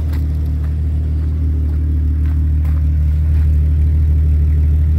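A 1996 Jeep Cherokee XJ 4x4 engine idles steadily up close, a continuous mid-pitched rumble and whir that holds even and unbroken throughout.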